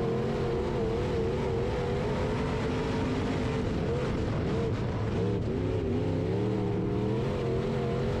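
A B Mod race car at Springfield Raceway in Missouri drones loudly and continuously at high revs, its engine note rising and falling slightly but stuck near 6,300 rpm, never climbing higher, all through the run.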